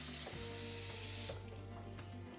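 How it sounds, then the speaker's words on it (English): Running water from a kitchen tap splashes steadily over salted, sliced cucumbers being rinsed in a bowl, a close, continuous wash with a few soft bumps and a slight easing toward the end. "So I'm going to rinse this a few times, squeeze out any extra moisture,"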